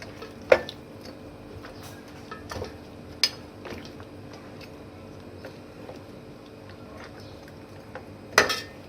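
A spoon clinks and scrapes against a pot while ground garam masala is mixed into Karachi-style biryani, with a few sharp metallic knocks over a quiet, soft stirring background.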